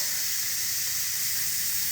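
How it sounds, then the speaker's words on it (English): Steam is released from a pressure cooker in a home kitchen, a steady loud hiss that runs continuously and unbroken from start to finish, close to the microphone. "Let's release the steam."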